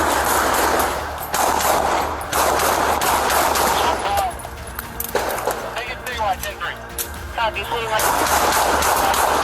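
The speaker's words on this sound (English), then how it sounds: "There's 3 cops over here right now that are shooting." Bursts of gunfire ring out during a police confrontation, with loud, rapid cracks at the start and end and a brief lull between. People shout in the middle of the exchange.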